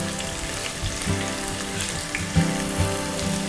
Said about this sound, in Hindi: और जीरे के साथ डाल दिया तुरंत में प्याज।